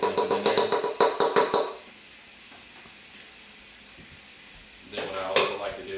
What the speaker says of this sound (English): I like to go ahead and put my onions and poblano peppers into the pot here.